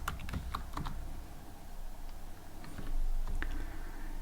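Rapid, irregular clicking of a computer keyboard as Python code is typed, the keystrokes close and crisp with brief pauses between bursts, and a slightly heavier flurry toward the end; no talking.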